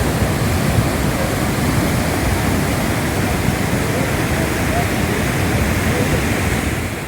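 Dangerous floodwater rushing beneath bridges in Bagh, Azad Kashmir, during heavy rain and storms, a loud, steady, broadband roar of churning water that runs unbroken the whole time.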